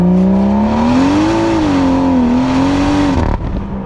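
BMW M140i with a double resonator delete, its engine and exhaust droning loud and close in a steady rising-and-falling rev before cutting off sharply near the end.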